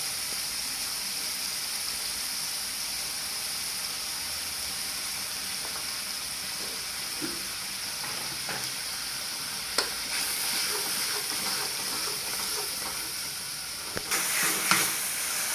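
Masala for a village-style fish curry frying in a pan, giving a steady hiss and sizzle throughout with a few faint clinks and stirring scrapes, close and continuous with no talking.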